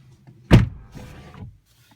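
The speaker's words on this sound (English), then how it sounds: "So I'm gonna go ahead and close the door here." A McLaren 570S door shuts with a single solid thud close by, followed by a softer rattle as it settles.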